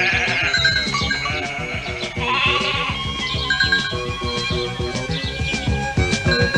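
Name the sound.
sheep bleating in a cartoon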